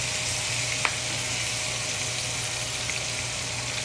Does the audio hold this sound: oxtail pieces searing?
yes